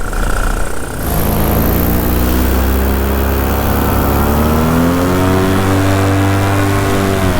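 Electric motor of a Spyder 4 RC glider running, a loud close whine with a sharp shift after the first second, then tones that slowly climb in pitch toward the end.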